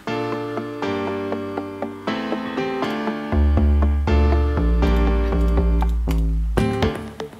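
Layered synth chords in an electronic dance remix build-up change in steady blocks over a deep bass that enters midway, loud and sustained with no talking.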